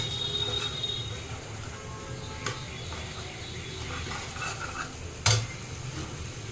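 Bottle gourd tipped into a pan of curry spiced with dried curry leaves and stirred, giving a faint, steady sizzle with a brief utensil clatter near the end.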